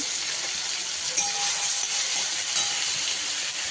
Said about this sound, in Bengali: পেঁয়াজটা তো একটু লাল লাল করে ভেজে নেব